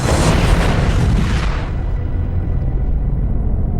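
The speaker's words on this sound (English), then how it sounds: "What's left of sack time hits the ground and explodes." A B-17 bomber hits the ground and explodes in a loud, close, rumbling blast that roars at full strength, then thins into a low fading rumble.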